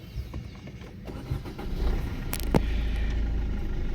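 A 2015 Maruti Suzuki S-Cross 1.3 diesel starts with a short crank and catches, then settles into a steady low idle close by, after quiet background noise at the start.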